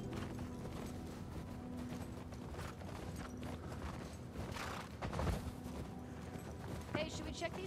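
Horse hooves clip-clop at a steady walking pace in The Last of Us Part 2, a faint rhythmic plodding under game ambience with a brief louder thud near the end.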